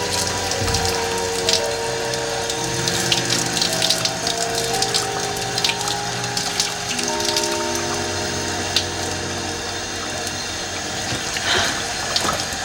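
Shower water runs steadily in a prison washroom, a continuous gushing hiss with clattering and knocking sounds scattered over it.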